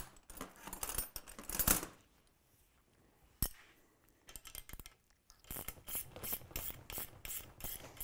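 Ratchet wrench snugging lock nuts on suspension bolts during a Kmod Gen 3 install, with bursts of rapid clicking ratcheting near and loud, a pause with a single sharp knock, then steady repeated ratchet strokes.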